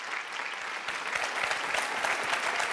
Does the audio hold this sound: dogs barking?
no